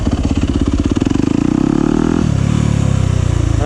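A Yamaha YZ250F dirt bike roars loudly and close in second gear during a rolling burnout, its engine note rising and pulsing hard with the rear tire spinning against the ground.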